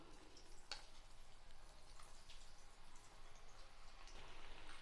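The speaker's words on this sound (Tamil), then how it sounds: "வாழைக்காயை கொஞ்சம் கொஞ்சமாக போட்டு பொரிச்சு எடுத்துக்கலாம்." Pieces of raw banana frying in hot oil in a pan, giving a steady, soft, crackly sizzle with scattered pops throughout, fairly faint and alone with no talking.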